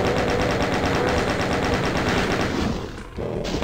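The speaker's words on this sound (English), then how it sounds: "I'm just gonna shoot you through these walls somehow" Rapid, continuous gunfire in the video game Ultimate Doom, loud and dense, with bursts hammering almost without pause. The noise drops briefly near the end, then resumes.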